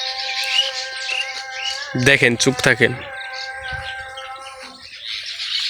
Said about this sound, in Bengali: দেখতে পাইছেন কি, শব্দ শুনতে পেয়েছেন? এই দেখেন কত পাখি চলে গেল, দেখছেন?